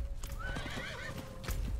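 Horse hooves clip-clop in a Diablo IV game scene, a steady close trot over a low ambient hum, joined by a brief whinny partway through.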